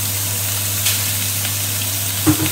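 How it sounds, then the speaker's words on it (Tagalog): Steady sizzling of sliced chicken frying in a hot pan for paella, with a low constant hum underneath and a single small clink near the end. "now you fry the chicken"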